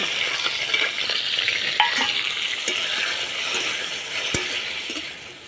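Kochu (taro) pieces coated with salt and turmeric fry in hot oil, giving a steady close sizzle with occasional sharp clinks of a utensil against the pan and no voices.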